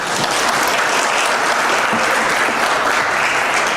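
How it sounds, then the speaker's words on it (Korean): Audience at a Korean high school admissions information session applauds a student presenter; dense, steady clapping fills the room at close range for the whole stretch, with no voices over it. "준비한 것을 놓치지 않고 열심히 발표한 강아량 학생에게 다시 한번 큰 박수 부탁드립니다"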